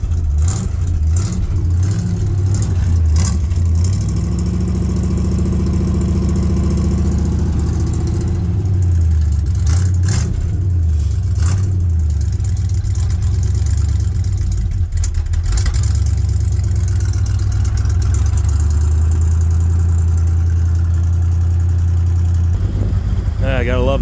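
A 1981 Ford Bronco engine with no choke is cold started while flooded, then runs loud and close with uneven, surging revs and rough idling throughout.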